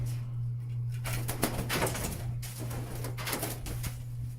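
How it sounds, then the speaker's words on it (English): A pigeon or dove at Little Ray's coos repeatedly in short, soft bursts over a steady low hum, with occasional clatter and thumps nearby. "You're very vocal, bird."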